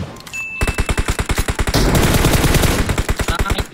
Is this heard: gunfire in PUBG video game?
yes